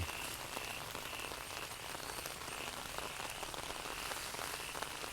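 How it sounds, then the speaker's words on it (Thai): Steady rain pours down near a rainwater tank on a Thai farm, a dense, even hiss of drops pattering on surfaces that stays constant throughout with no voices. "สายฝนที่โปรยปลายนะครับ"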